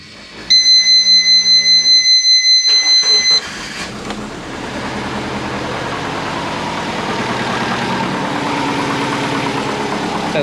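A twin-turbo Subaru Forester engine with freshly sealed exhaust cranks with a brief buzzing whir, then catches and settles into a steady, loud idle that runs on evenly.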